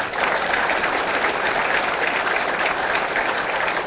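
Members of a political party's founding assembly applaud together to approve a motion unanimously, a loud, dense, unbroken burst of clapping from a large crowd filling the whole stretch.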